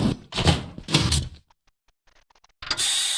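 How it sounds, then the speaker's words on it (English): A prison door in a Minecraft prison closes with two loud, broad mechanical bursts, a near-silent pause, then a sustained bright noisy rush at the end, with no one speaking. "to close the door."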